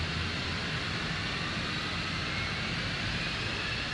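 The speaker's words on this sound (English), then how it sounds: "there's the second engine spooling up" A twin-engine F-15E Strike Eagle in DCS World brings its second jet engine up from start, producing a loud, steady, broadband roar that holds evenly throughout with no voices.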